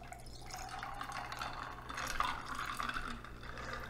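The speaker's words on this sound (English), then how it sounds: "And you're literally topping this puppy up with orange juice." Orange juice pours into a glass over vodka, a soft, steady liquid trickle and fill sound heard faintly and close, with no talking.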